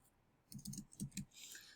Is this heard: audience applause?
no